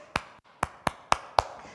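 Children clap their hands during an online Sunday school service. Five sharp, fairly faint claps come at irregular intervals, with no voices over them.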